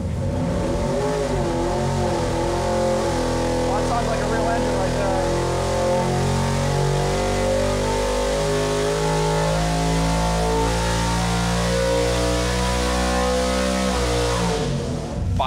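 A 1977 Ford Granada engine on a dyno revs hard toward 7,500 rpm, a loud sustained mechanical roar that holds steady for the whole stretch, with voices faintly mixed in beneath.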